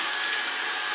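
A Kitfort KT-533 robot vacuum cleaner runs in an apartment, giving a brief, steady high whir and hiss at moderate volume.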